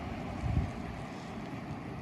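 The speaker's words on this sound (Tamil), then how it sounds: "அந்த -4 டிகிரியோடு சேர்த்து காற்றும் ஸ்னோவும் கொட்டிகிட்ருக்கு." Wind roars through a snowstorm at minus four degrees, a continuous rumbling buffet with a brief stronger gust, the air noise steady and close with no one speaking.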